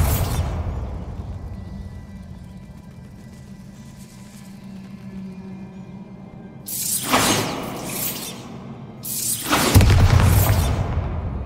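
Two heavy explosive blasts from the Bombarda spell in Hogwarts Legacy, loud and close, spaced a couple of seconds apart. A quiet ambient game bed underlies both blasts.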